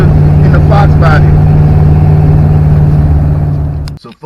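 An automatic-transmission Foxbody Mustang is being shifted by hand in the AOD Shuffle. A loud, steady engine roar and hum holds for about four seconds, then cuts off abruptly, leaving brief quieter sounds at the end.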